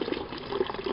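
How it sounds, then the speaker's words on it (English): An outdoor village water tap in Namibia runs steadily, a continuous splashing gush of water close by. "Yeah, that's the tap."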